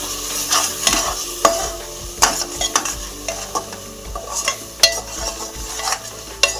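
A spoon stirs garam masala through a sizzling black eggplant curry (kala vanga), with irregular scraping strokes against the pan over a constant close frying hiss. No voices are present.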